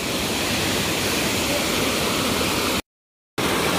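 Dodhani waterfall, a hidden cascade near Panvel in Navi Mumbai, roars as a steady, dense wash of falling water close by, unbroken except for a brief gap of silence near the end.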